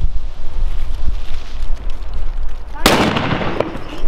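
A sudden loud burst of Chinese firecracker explosions, Funke brand, near the end, crackling sharply after a few seconds of windy outdoor noise.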